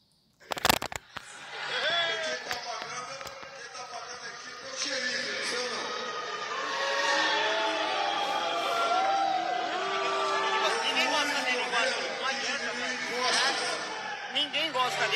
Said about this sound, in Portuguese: Vou te mostrar aqui o vídeo das vaias que aconteceram